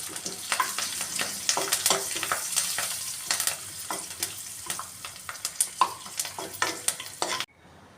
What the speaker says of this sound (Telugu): ఈ పోపు పచ్చళ్ళలో వేసేసుకోవాలి